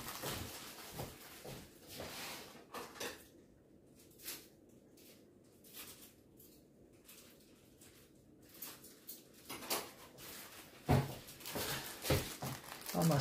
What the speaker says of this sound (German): Ich schneide mal eben auf.